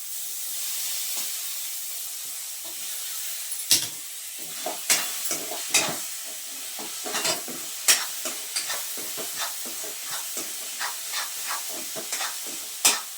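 Tomato added to a hot pan hisses and sizzles steadily while a spatula stirs it, giving repeated sharp scraping strokes that grow busier and more frequent as the stirring goes on.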